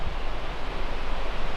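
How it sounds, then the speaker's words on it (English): Waterfall seen from a cliff edge on public land during a spring bear hunt, a steady loud broadband rush of falling water with no talking. "There's a waterfall right here."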